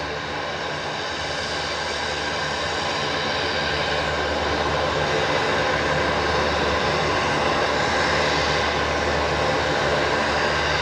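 A Qantas airliner departs full length off runway 19 left at Brisbane Airport at night, its engines a loud, steady, broadband roar that swells slightly over time, heard alone.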